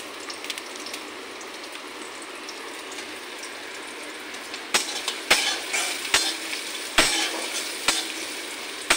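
Chopped green chillies and onions frying in a pan for chira pulao, with a steady soft sizzle that turns into louder, sharper spattering bursts as the ingredients hit the hot oil, with no talking.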